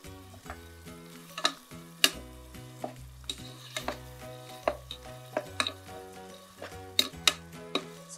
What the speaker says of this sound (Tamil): போட்டு நல்லா வதக்கலாம்.